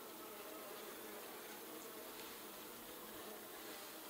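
Bees swarming around an open hive, a dense continuous buzzing drone, steady and close, filling the whole moment without talk.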